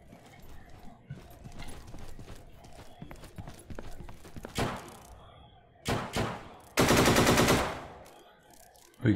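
Gunfire in the Deadside video game, scattered single shots followed by a sustained burst of rapid automatic fire, loud and close.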